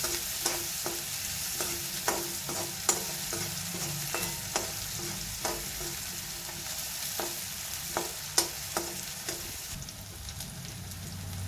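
Chopped onions sizzle in an oiled pan while being cooked for pasta, a soft steady frying hiss broken by regular scraping stirs of a spoon, close and fairly quiet with no talk.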